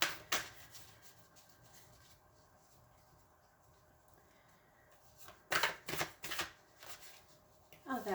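Tarot cards shuffled close by in soft, riffling bursts, then a brisk flurry of flicks and slaps near the end as more cards are drawn and laid down, with no talking.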